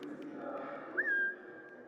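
A short whistle in the video game Assassin's Creed Mirage, used to lure an enemy: one quick rising note that holds briefly and then stops, clear above a low, steady game ambience.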